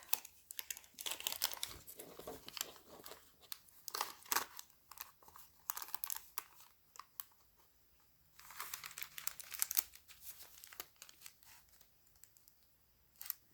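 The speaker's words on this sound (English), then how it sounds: "I'm going to tear off a little bit on the bottom. I'm going to tear this off." Paper being torn off at the bottom of a sheet, giving repeated close, crisp crinkling and ripping bursts in separate clusters, with short quiet gaps between and no talking.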